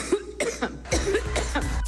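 Someone coughs in a rapid, harsh series, several close, dry bursts packed into under two seconds with brief gasps between them.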